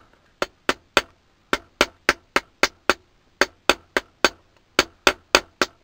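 A hammer strikes a stainless steel disc being shaped into a spoon: sharp metallic blows fall in quick groups of three or four with short pauses, about twenty hits, close and crisp.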